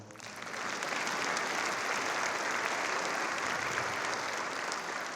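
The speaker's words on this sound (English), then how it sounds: "You can clap right there." An audience applauds during a mayor's State of the City speech, the clapping swelling within the first second into a dense, sustained roar from a large crowd that holds steady and then starts to thin at the end.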